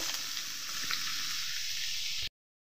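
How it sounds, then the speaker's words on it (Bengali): Marinated chicken fries with spices in a pan, giving a continuous hissing sizzle at even loudness for about two seconds before cutting off abruptly into silence. "একটু ভেজে নেব সব রকম মশলা দিয়ে।"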